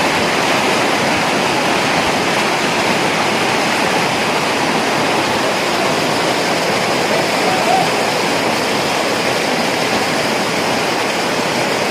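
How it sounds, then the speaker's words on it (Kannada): Strong rushing water roars steadily and loudly throughout, a dense unbroken torrent close by with no pauses; a protest setting in Bailhongal, Belagavi, with no voices rising clearly above the flow. "ನೀರು ಜೋರು ಐತೆ ಹೇಳು"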